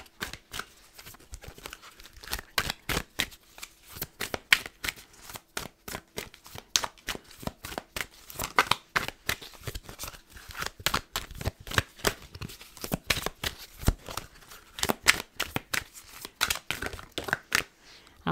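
Tarot cards being shuffled by hand, a rapid irregular run of soft crisp riffling flicks close up, continuing steadily throughout with no talk.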